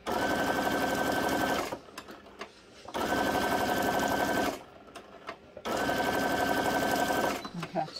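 A sewing machine stitches fabric onto journal cards made from punch negatives, running in three steady bursts of a few seconds each with quieter pauses between them, close and loud.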